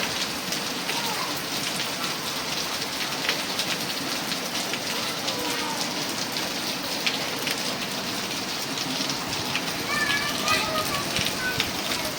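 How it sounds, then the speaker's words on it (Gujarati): Steady rain falling outdoors in Umrala, a dense continuous patter on surfaces, light and even, with a voice speaking faintly over it. "અમારા ઉમરાળામાં વરસાદ પાછો ચાલુ થઈ ગયો છે."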